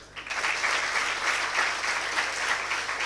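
Steady crowd applause from seated graduates fills a ceremony hall at a Mangalore graduation, a continuous dense patter of many hands at a constant, fairly loud level with no speech.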